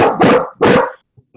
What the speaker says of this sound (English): That is a loud dog.